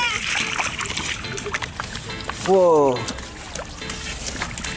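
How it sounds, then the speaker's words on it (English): A child jumps in puddles, splashing water, with a loud splash in the middle among nearby voices of a child and an adult. "Whoa, gonna splash in them."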